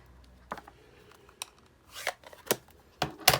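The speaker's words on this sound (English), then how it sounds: "am I game to trim it with my scissors?" Close, crisp snips and rustles of paper being cut, starting sparse and growing busier, with several sharp cuts near the end and no speech.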